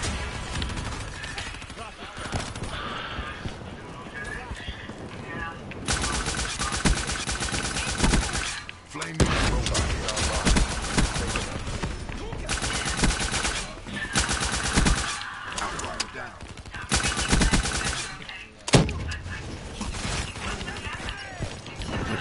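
Rapid automatic gunfire fills a chaotic video game firefight, running in long sustained bursts broken by brief pauses, loud and dense throughout.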